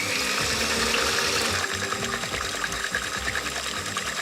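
A glass of water pours steadily into a cake mix in a bowl, a continuous splashing, gurgling stream heard close and alone, with a slight change in tone partway through.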